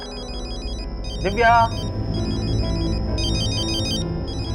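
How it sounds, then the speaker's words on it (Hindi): A mobile phone ringtone rings somewhere inside a house, a repeating electronic chime in bursts, while a woman calls out a name loudly partway through. "रिंग तो बज रही है"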